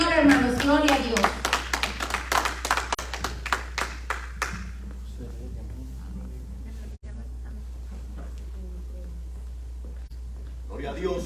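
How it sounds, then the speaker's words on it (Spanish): A small church congregation claps in praise, with sharp, quick claps for several seconds that stop abruptly. After that come a low hum and quiet talk. "Den un fuerte aplauso al Señor, hermanos."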